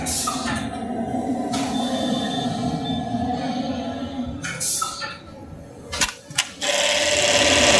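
A Brother RH-9820 eyelet buttonhole sewing machine runs steadily at close range with a continuous mechanical drone, briefly interrupted by a few sharp clicks and pauses near the end before resuming.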